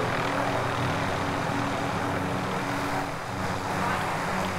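A helicopter in a video game gives off a constant, dense, loud rotor and engine roar that fills the whole stretch without pause, with a slight dip partway through.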